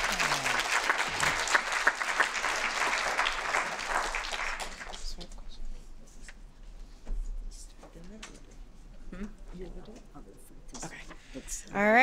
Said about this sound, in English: let's give another round of applause for our first set of panelists